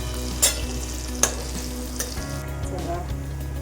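Methi vadi, fenugreek fritters, fry and sizzle in a pan, a steady close crackle with a few sharp clinks as they are turned and stirred, no talk.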